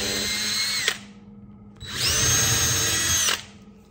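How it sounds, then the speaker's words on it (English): A power drill whirs into the back of an antelope horn in two bursts, a short one followed by a pause and then a longer, louder run, close by, with no talking. "So I'm just going to come to the back of the horn and just drill in"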